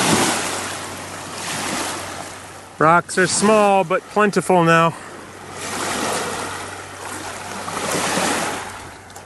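Lake waves wash steadily onto a rocky shore at Fisherman's Island State Park, a broad surging hiss that rises and falls in swells, with a person briefly speaking over it midway.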